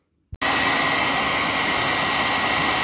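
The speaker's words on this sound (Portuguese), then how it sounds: "E agora eu vou secar a burrada que eu fiz com o secador." A hair dryer switches on after a brief click and blows steadily into a Samsung WD11M4473 washer-dryer after its filter cleaning, a loud continuous whooshing hum with a constant motor whine.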